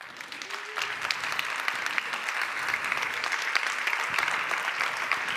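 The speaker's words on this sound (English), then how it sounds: "please make a big applause to Enrique Lian" An audience at a consumer conference applauds steadily, dense clapping from a large crowd filling the room at moderate distance and holding even throughout.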